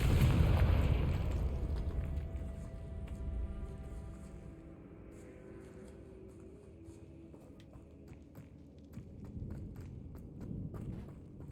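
A Confringo spell detonates in Hogwarts Legacy with a loud, deep boom that rolls off into a rumbling decay, followed by quieter game ambience and a few faint clicks.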